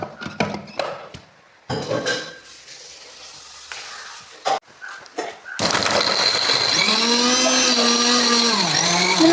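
Mixer grinder blending mango chutney with chillies, curry leaves and salt, a loud steady whirring grind with shifting pitch that starts abruptly after earlier scattered clatter and handling noises.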